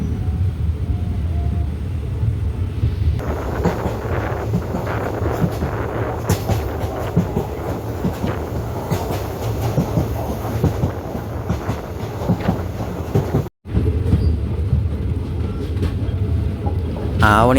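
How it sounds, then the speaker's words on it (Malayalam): A diesel train pulls out of Kottarakkara station on the Kollam to Aryankavu line, a steady loud rumble and rattle of carriages rolling on near, with faint clicking of wheels on rail joints and no talk. "ഹോണൊക്കെ അടിച്ച് കൊട്ടാരക്കരയിൽ നിന്ന് ട്രെയിൻ നീങ്ങി തുടങ്ങി."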